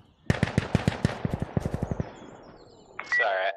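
Rapid automatic gunfire in Insurgency: Sandstorm, a sharp close burst of about fifteen evenly spaced shots that stops abruptly, followed by a short electronic tone.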